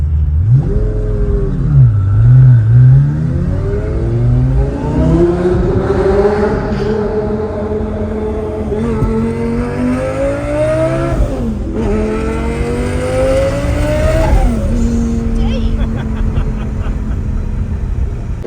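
A twin-turbo Lamborghini Gallardo revs hard while passing under a bridge, its loud, close engine note climbing and falling through repeated throttle pulls and shifts, echoing off the structure.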